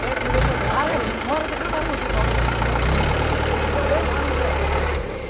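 A tractor engine idles close by with a low, steady chugging rumble, while voices talk over it.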